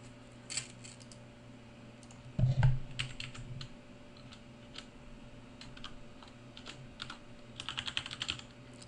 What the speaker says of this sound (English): I have a mechanical keyboard and my mic is very sensitive, so you'll hear a lot of that too.